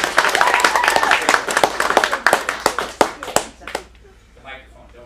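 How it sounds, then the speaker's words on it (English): Audience clapping at an adult acting studio's script showcase in Phoenix: dense, close applause that thins into scattered separate claps and fades out near the end. "let's get a round of applause for our next catch"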